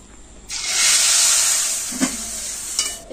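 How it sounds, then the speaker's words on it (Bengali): Potato and sago papads frying in hot oil give off a loud, steady sizzling hiss that starts abruptly and keeps going, with a couple of brief crackling pops near the end. "এই তো পাঁপড় ভাজছি"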